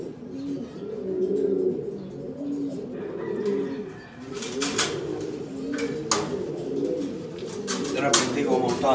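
Pigeons coo in a steady, layered chorus of low murmuring calls from a breeding loft of stock birds, with occasional sharper clicks and wing flutters rising above the continuous cooing, close and fairly loud.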